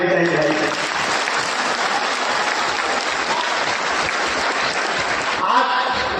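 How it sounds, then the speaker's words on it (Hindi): Audience applause at a large public festival celebrating the birth anniversary of Emperor Ashoka, a dense, loud sustained clapping from a crowd that carries on throughout with little change. "जोरदार ताली होनी चाहिए भाई"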